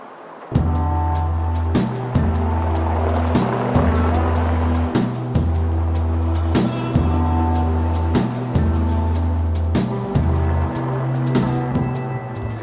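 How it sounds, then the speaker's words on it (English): Bugatti Veyron Grand Sport engine running hard on a rolling road dyno at speeds up to 125 mph, a loud steady drone with repeated shifts in pitch every second or two, continuous and close with no talk. "each Veyron is run on a rolling road dyno for 35 miles, at speeds of up to 125 miles an hour"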